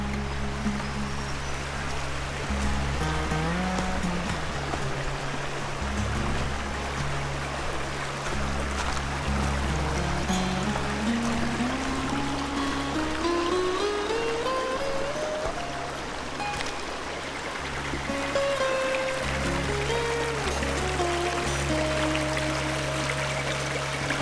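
A small waterfall cascades over rocks along a hiking trail, giving a continuous close rush of falling water that holds steady throughout, with no voices.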